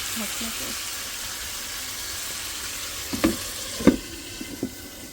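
Fish sautéing in a pan gives a constant, loud, close sizzle and crackle, with a few sharp knocks from stirring near the end.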